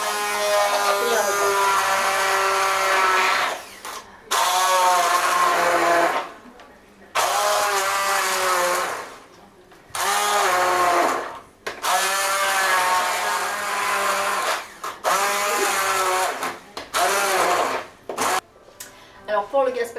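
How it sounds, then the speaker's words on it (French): A kitchen blender whirs in loud bursts while blending watermelon gazpacho, motor pulsing on and off roughly every two to three seconds with brief silent gaps, close and dominant. "on va prendre notre mixeur et on va tout mixer"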